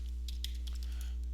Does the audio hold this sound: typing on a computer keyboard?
yes